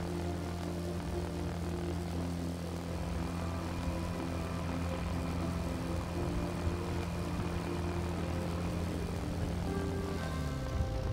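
Propeller airplane in a racing flight game drones steadily at close range, engine hum constant throughout before easing slightly near the end as the plane settles into a landing.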